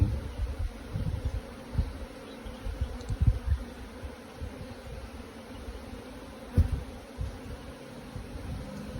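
A honeybee swarm pours out of its hive, a dense, continuous buzzing hum of many wings with soft fluctuations and occasional nearer bees passing close.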